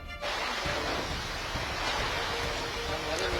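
Rough sea surf pounds the Kovalam coast near Mamallapuram during heavy rain, a loud continuous roar of crashing waves mixed with gusting wind.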